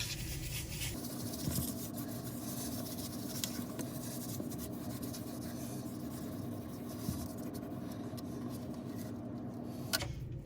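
Paper is rubbed by hand onto an inked lino block to take a print, producing a steady, close, scratchy rubbing that continues with small bumps throughout.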